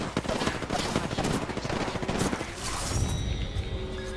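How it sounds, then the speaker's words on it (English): Rapid automatic gunfire in an Apex Legends match, dense bursts of shots and impacts rattling continuously, loud and close, tapering into a lighter hiss near the end. "Getting shot at."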